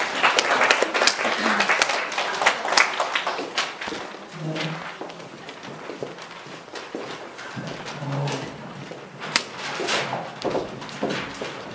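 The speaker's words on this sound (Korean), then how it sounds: "박수 한번 쳐주십시오" Audience applause at a Korean team presentation event, dense irregular clapping from a room full of people, loud and steady throughout with a few sharper claps standing out.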